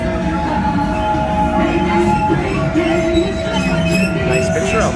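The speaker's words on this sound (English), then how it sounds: "Best half a train ride ever." Amusement park Scenic Railway train ride at Six Flags Great America, a steady, loud rolling rumble of rail cars with squealing wheels and clatter throughout, with riders' voices mixed in.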